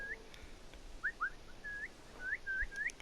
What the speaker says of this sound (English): Just keep whistling till they come